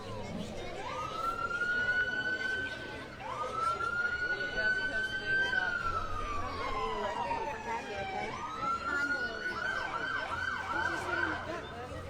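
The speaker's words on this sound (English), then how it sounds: "I'm sure you can already hear the sirens" Police car sirens at the Greer Christmas parade, wailing and sweeping up and down in long repeated cycles, moderately distant over street crowd noise, with people talking nearby.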